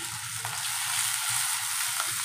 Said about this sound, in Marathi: लसूण टाकूया, कांदा टाकला,